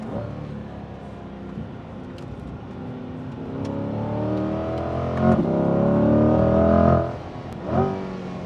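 A 2021 Chevrolet C8 Corvette Stingray accelerates hard, its engine note climbing steadily and dropping with quick, crisp gear shifts before rising again, loud and close.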